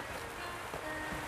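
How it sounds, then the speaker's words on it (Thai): Rain falls steadily on a farm garden, a soft, continuous patter and hiss at low volume with no voices. "มาหลบฝนมาหลบฝน หลบฝนก่อนครับพี่น้องครับ"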